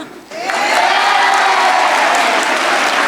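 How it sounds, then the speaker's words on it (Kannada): A large audience at a graduation day farewell ceremony breaks into loud, sustained clapping that starts suddenly and fills the hall, with a few faint cheers mixed in. "ಆಗ ಚಪ್ಪಾಳೆ ಹೊಡೀರಿ"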